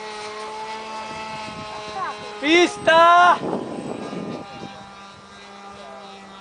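A small airplane engine runs at an airfield in Navegantes, a steady propeller drone with harmonic whine heard throughout, while people talk and shout nearby over it.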